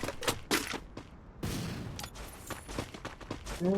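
Rapid bursts of gunfire in a Free Fire tournament match, crackling in quick clusters with a longer sustained volley midway, fairly loud and dense.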